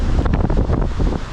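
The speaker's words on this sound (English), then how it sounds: "Why does it have to be so fucking windy here?" Strong outdoor wind buffets the microphone in a continuous loud, low rumbling roar with gusty surges and no voices.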